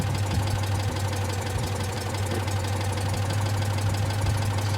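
A Citroen 2CV engine ticks over at idle, a steady low throb with a fine repetitive clatter that holds evenly from start to finish, close and fairly loud with no talk.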